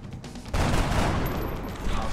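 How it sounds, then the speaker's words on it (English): Gunfire in the turn-based tactics game XCOM Enemy Within, a sudden dense burst of shots that erupts after a quieter moment and rattles on loudly to the end. "Hostile fire at my position."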